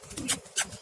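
Pigeons let out of their coop give a low, throbbing coo, two short pulses close by and fairly quiet, with a couple of brief rustling flutters between them.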